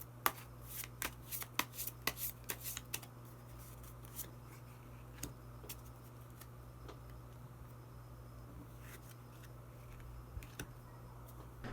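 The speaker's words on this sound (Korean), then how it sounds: "마지막으로 히든 카드 한 장 더 뽑아보도록 하겠습니다" Tarot cards shuffled and drawn by hand during a reading, a quick flurry of crisp riffling snaps up close, then sparse soft card slides and taps over a steady low hum.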